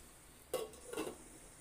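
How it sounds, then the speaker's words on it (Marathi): Two soft metallic clinks as a lid is set onto a pot of cooking potatoes for an aubergine-potato dish, close and faint against a quiet kitchen. "आता याच्यावरती मी झाकण ठेवते"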